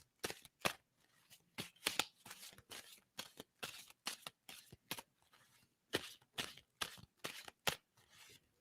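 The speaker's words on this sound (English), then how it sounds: "And I'm going to stop shuffling." Tarot cards being shuffled by hand in repeated quick riffles and snaps, close and crisp, in irregular bursts with short pauses, no talking over them.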